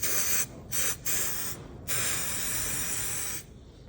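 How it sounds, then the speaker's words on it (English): Spray glue blasts from an aerosol can fitted with a wide spray top, giving several loud hissing bursts: two short ones, one brief puff, then a long sustained spray before stopping. "This is the spray glue I use. It has the wide spray top on it."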